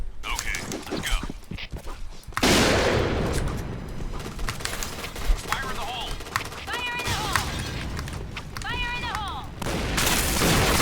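Gunfire rattles through the online shooter Point Blank, from a Kriss submachine gun compared silenced and unsilenced. Dense bursts and repeated shots fill most of the clip, with voices talking over the action.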